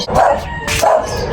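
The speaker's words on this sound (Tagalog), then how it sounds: "Maingay yung aso" A dog barks twice, loud and close, in quick succession, outdoors.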